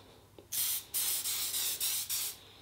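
Bursts of Faberge Brut aftershave sprayed from an aerosol can during a shave, six loud hissing blasts in an uneven rhythm with short gaps, close to the microphone and without talk.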